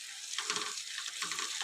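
Tomato curry with fenugreek leaves is stirred in a pan, giving two soft, swishing scrapes over a faint background sizzle.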